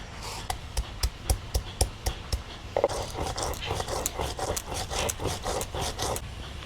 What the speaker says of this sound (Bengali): এবারে আদা রসুন আর জিরা একসঙ্গে বেটে নেব।